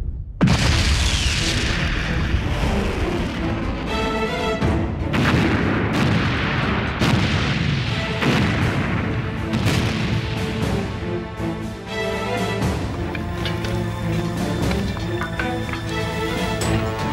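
Artillery in a modern war film fires in a loud, sustained barrage, with heavy booms and sharp blasts layered over rumbling echoes and a dense battlefield din lasting throughout.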